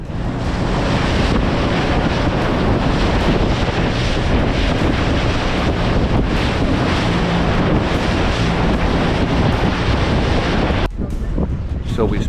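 Rough sea off Moorea: loud, continuous churn of waves with heavy wind buffeting the microphone throughout, a steady roaring wash that briefly dips near the end.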